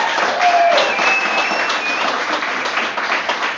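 Audience applause at a live comedy show, a broad, steady wash of clapping filling the whole stretch with a few whoops cutting through, fairly loud and close.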